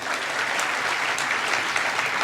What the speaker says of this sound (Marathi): याच्यासाठी टाळ्या मी वाजू का तुम्ही वाजवित आहे